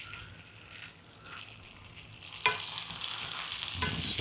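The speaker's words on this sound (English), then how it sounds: "Let that saute a minute." Garlic and yellowtail snapper sauté in a hot pan with a soft, steady sizzle and occasional stirring scrapes, growing louder and crackling more after a sharp clatter partway through.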